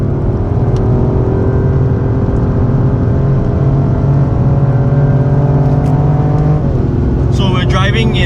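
A Toyota GR Yaris three-cylinder engine drones and pulls steadily on the Sepang track, heard loud from inside the cabin with a rising, slightly gruff tone and tyre and road roar underneath.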